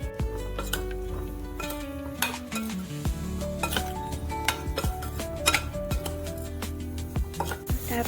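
Boiled, peeled potatoes are mixed with salt, turmeric, cumin and coriander powder in a bowl, giving repeated close metallic clinks and scrapes of a spoon against the bowl over steady background music.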